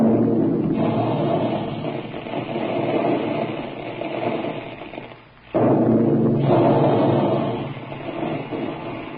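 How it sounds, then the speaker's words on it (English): Big guns firing to make Quaker puffed wheat and puffed rice come through as a dense, rumbling roar on an old radio recording, loud and continuous with one sharp break near the middle before the booming resumes. "Big guns. That's the way they sound when they're making puffed wheat and puffed rice."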